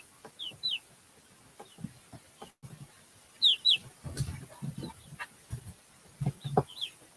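A backyard flock of chickens clucks on and off with scattered high-pitched calls, close and fairly loud, pausing between bursts with no voices.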